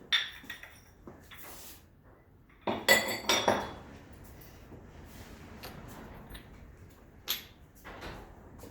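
Ceramic bowls taken from a kiln clink and knock against each other in a few scattered bursts, the loudest near the middle, with quieter handling sounds and short gaps between.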